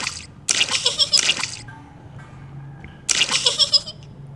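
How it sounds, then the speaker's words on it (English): Cartoon water splashes from jumping in muddy puddles in a Peppa Pig video game, two short bursts of wet splashing and dripping separated by a quiet pause. "Splash in the muddy puddles."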